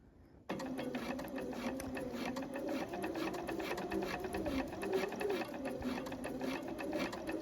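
A sewing machine stitches steadily along an assembly seam on a top, starting abruptly after a brief quiet moment and then running as one continuous, even mechanical whir with fine rapid ticking.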